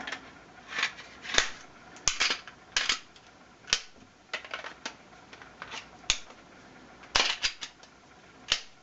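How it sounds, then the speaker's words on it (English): The slide of a Glock 26 pistol is handled and fitted back onto the frame during reassembly, giving a series of sharp close metallic clicks and snaps spaced irregularly, with no talk. "Let's go ahead and reassemble the gun. Put our upper back on."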